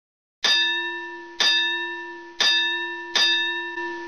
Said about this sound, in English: The bell hasn't rung yet.